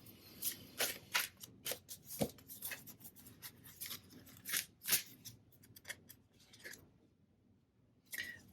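Tarot cards being handled, shuffled and drawn, giving a steady run of soft flicks, snaps and paper rustles close by, then a brief pause and a final flick.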